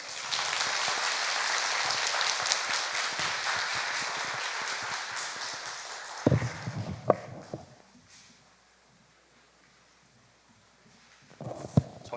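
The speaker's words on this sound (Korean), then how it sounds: "저희의 마지막 강의를 멋지게 마무리해 주신 장로님께 다시 한번 큰 박수 부탁드리겠습니다." An audience claps together after a lecture at a church training session, a loud sustained ovation for about six seconds that then breaks into scattered, fading claps, followed by near silence and a few final claps.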